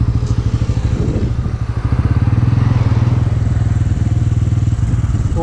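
A Bajaj Pulsar N160 motorcycle accelerating hard in fourth gear on a road during a speed test: a loud, close, throbbing exhaust note that steadily rises in pitch.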